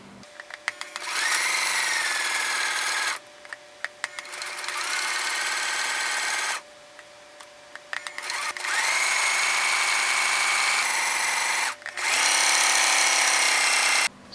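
Electric sewing machine stitching along the edges of a fabric envelope, running in several sustained bursts of steady motor whir with short pauses between them, close and fairly loud.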